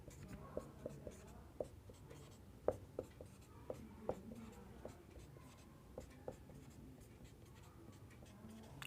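Chalk or marker writes a chemical formula on a board, a faint series of irregular scratchy strokes and light taps in a quiet room.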